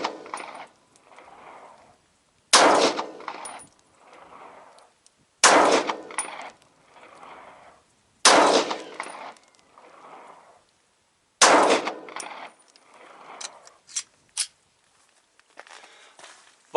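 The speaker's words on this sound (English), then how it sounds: "5 shots, M&P 9, 135 grain." An M&P 9 pistol fires five 9mm 135 grain rounds at a shield, each loud crack spaced a few seconds apart and followed by a metallic clang and rattle, with quieter handling sounds in between.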